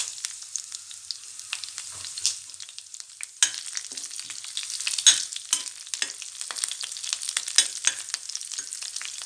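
Sliced potatoes fry in hot oil in a pan while a spoon stirs them. A bright, steady sizzle runs throughout, broken by irregular scraping clicks of the stirring, close and clear with no voices.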